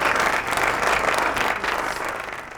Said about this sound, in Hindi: तालियां हो जाए जी इनके लिए